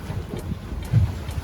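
Wind gusts across a sailboat at sea on the route from Bimini to Eleuthera in the Bahamas, a steady rushing roar with brief louder buffets against the microphone.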